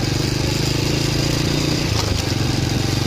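Honda Wave 100 motorcycle engine running steadily close by, a continuous even drone with a low rhythmic pulse and no talk.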